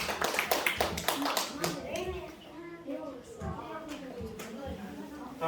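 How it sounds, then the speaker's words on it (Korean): Children at an elementary Sunday school service on Zoom clap together for a couple of seconds, a burst of quick hand claps that fades into talk from an adult leader. "하나님 앞에 영광의 박수"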